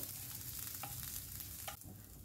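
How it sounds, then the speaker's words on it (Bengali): Cumin seeds and grated ginger frying in a pan, a steady hiss and sizzle with occasional scraping stir strokes, close and alone without talk. "এবার আদার যতক্ষণ কাঁচা গন্ধটা চলে যাচ্ছে ততক্ষণ একটু নেড়ে চেড়ে নেব।"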